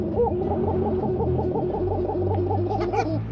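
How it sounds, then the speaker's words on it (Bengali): A pair of kuka pigeons coo steadily and close by in a regular, repeating rhythm that carries on without a break, with no talk over it. "এক জোড়া কুকা খুব সুন্দর ডাকাডাকি করে"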